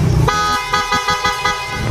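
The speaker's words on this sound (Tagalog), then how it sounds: "Busina." Horn on a TMX 125 Alpha motorcycle fitted with a PIAA horn and the stock horn, sounding in a series of short loud toots, close by and with no talk over them.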